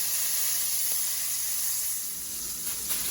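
A Beyond Meat burger patty, smashed flat in a hot pan, gives off a loud, steady sizzle that runs unbroken throughout.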